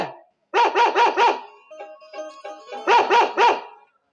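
A dog barks in two quick bursts of four loud, close barks each, separated by a pause filled with faint rhythmic knocking and clattering.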